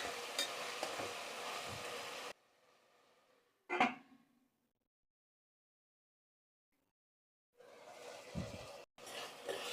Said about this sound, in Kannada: ಸ್ವಲ್ಪ ಟೊಮೊಟೊನೂ ಅಷ್ಟೇ ಚೆನ್ನಾಗಿ ಎಣ್ಣೆಯಲ್ಲಿ ಫ್ರೈ ಆಗಬೇಕು